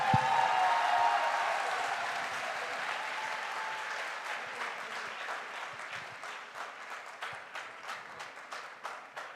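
Audience at a diamond promotion celebration claps together, a loud full burst at first that thins out into looser, more separate claps that can be picked out over the remaining seconds.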